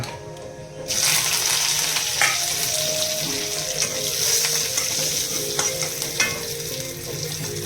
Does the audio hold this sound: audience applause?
no